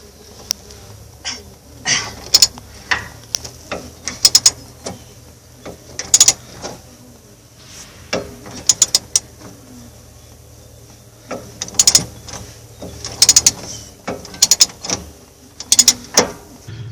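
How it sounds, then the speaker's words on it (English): Wrenching out bolts from a bus steering gearbox: a run of sharp metallic ratchet clicks in short bursts, close by, with quiet pauses between them and no talk. "the last step to do is take these bolts off"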